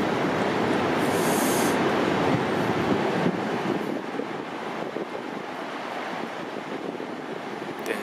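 Steady rumble of a moving train heard from inside the carriage, a loud continuous broadband roar with a brief hiss early on and no talking.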